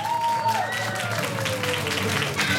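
An audience applauds at a children's talent show, a continuous wash of clapping under a sustained tonal sound that slides downward, loud and close throughout.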